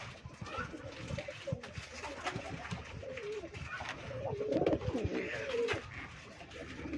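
White pigeons in a loft, some moulting and kept as pairs with their young, coo softly and repeatedly at close range over a low background rustle.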